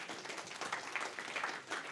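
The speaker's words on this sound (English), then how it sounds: "A round of applause, please." Brief, fairly faint applause from an audience at a livestreamed tech event, a steady patter of claps with little talk.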